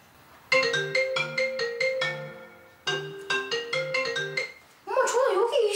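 Mobile phone ringtone plays indoors in a Korean drama scene, two bright melodic phrases of repeated beeping notes, then a warbling tone at the end, loud and close with no one speaking over it.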